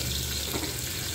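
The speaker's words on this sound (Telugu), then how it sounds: "పచ్చిమిరపకాయలు కలర్ మారేంత వరకు కలపాలండి." Green chilies frying and being stirred in a pan make a steady, even sizzle that holds through the short stretch, with faint scraping and no voices.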